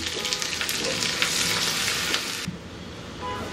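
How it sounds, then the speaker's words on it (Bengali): Chopped onions, about a cup, fry steadily in a pan for a broiler chicken curry, giving a dense, continuous close sizzle that softens slightly partway through. No voices are present. "এগুলো দিয়ে আমি একটু ভেজে নেব। পেঁয়াজটা নরম হওয়া পর্যন্ত"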